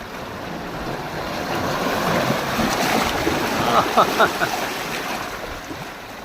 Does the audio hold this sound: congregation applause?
no